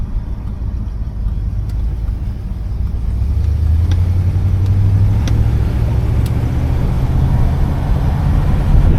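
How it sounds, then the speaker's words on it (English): A 1966 Oldsmobile 98 engine pulling away from a stop sign, a loud steady interior drone that swells and rises in pitch partway through as the throttle opens, with no talk. "give her a little bit of throttle, because I haven't really been over 30 for you guys"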